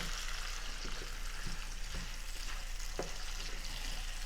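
Kabob meat frying in a pan, a steady close hiss and sizzle with small crackles and pops scattered throughout, no voices.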